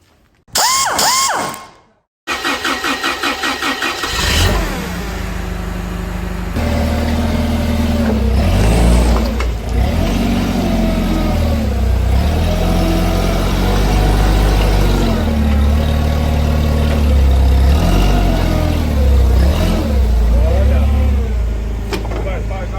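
Wood chipper engine running loud and close, a heavy low rumble that starts after a brief burst and then holds steady, with a person talking over it.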